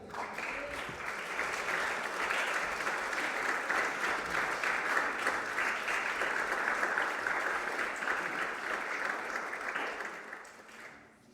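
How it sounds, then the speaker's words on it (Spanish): A church congregation claps together for the Lord during a Spanish-language sermon, loud sustained applause filling the room for about ten seconds before tapering off at the end. "¿Le da un aplauso al Señor?"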